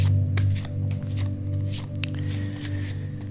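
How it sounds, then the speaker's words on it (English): Tarot cards are shuffled by hand, a run of close, crisp riffles and soft slaps over a steady low hum, with no talk. "we're just going to shuffle the cards a little bit"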